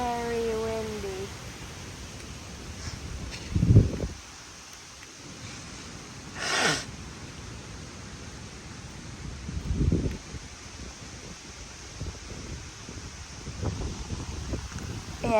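Strong wind buffets the outdoors, with low rumbling gusts and rustling that swell and fade several times at moderate loudness.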